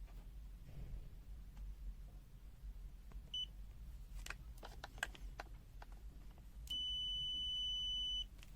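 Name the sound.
TASI TA804B multimeter continuity test beep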